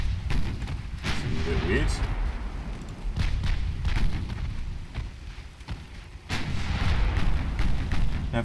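A warship's casemate gun fires in Ultimate Admiral Dreadnoughts, a series of sharp booming shots and thuds scattered through the clip beneath someone talking.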